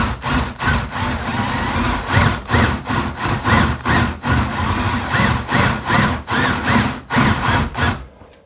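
A power drill bores into the wood of a 1994 Black Label Fender Telecaster body in loud, close, rhythmic bursts, the motor surging and dipping about twice a second before cutting off at the end.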